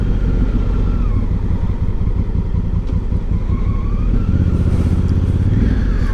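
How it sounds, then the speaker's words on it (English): A hire motorbike's engine whines loudly and continuously close to the microphone, a steady droning hum with slight rising and falling pitch throughout and no voices. "that inane whining that the engines make"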